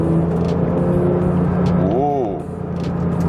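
A Porsche 992 GT3 flat-six engine, set to sport mode, hums steadily close by. Its tone wavers briefly partway through, and then the steady drone carries on.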